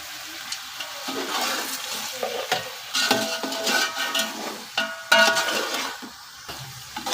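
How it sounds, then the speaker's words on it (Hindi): Boiled mutton is stirred and fried in a pot for yakhni pulao, with bursts of sizzling and scraping strokes of a spoon against the pan, rising and falling irregularly. "गोश्त हमारा गला हुआ है, इसको बस हमने थोड़ा सा भूनना है।"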